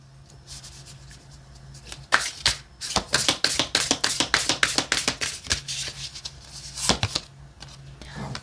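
Oracle cards being shuffled by hand: a dense run of quick papery riffles and taps, fairly close and moderately loud, with brief pauses between bursts and no talk.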